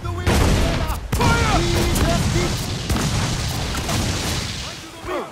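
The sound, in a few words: ship cannons firing a volley, from video game Assassin's Creed Freedom Cry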